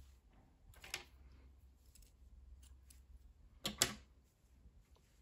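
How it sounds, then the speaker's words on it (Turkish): Scissors snip through yarn in two quiet, crisp cuts, the first brief and the second a quick double snip, close and otherwise near silence. "İpliği kesiyorum."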